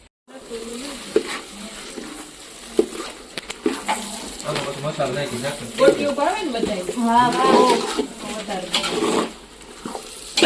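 Vegetable tempering (vaghar) sizzles and crackles steadily in hot oil, with clinks of stirring layered over it and voices talking in the background.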